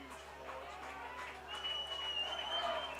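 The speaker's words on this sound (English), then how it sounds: "Crowd getting rowdy in support of the Larks." A baseball crowd at the ballpark cheers in support of the Larks. Applause and cheering roll across the stands at a distance and swell slightly toward the end, with a faint whistle audible over the noise.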